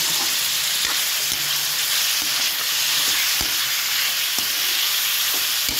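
Chicken browning in a pan for tinola sizzles and fries steadily up close, with a few soft knocks and stirring clatters scattered through, and no voices.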